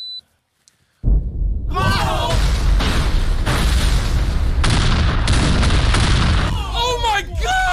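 A loud explosion erupts after a brief quiet, followed by a long rumbling, crackling roar with further booming bursts, while voices cry out over the blast.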